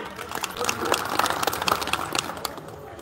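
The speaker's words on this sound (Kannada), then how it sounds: "ಅವರನ್ನು ಈ ವೇದಿಕೆಗೆ ಭವ್ಯವಾಗಿ ಸ್ವಾಗತಿಸೋಣ ಚಪ್ಪಾಳೆಯೊಂದಿಗೆ" Scattered applause from an audience welcoming guests to the stage at a devotional gathering, uneven claps rising and fading over about three seconds, moderately loud.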